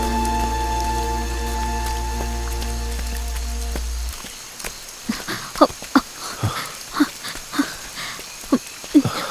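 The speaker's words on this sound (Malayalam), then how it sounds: "മഴയൊന്ന് തോർന്നിട്ട് നമുക്ക് പോകാം കേട്ടോ." Rain falls steadily outdoors near a tree, a constant wash of drops with scattered louder splashes and patters standing out in the second half.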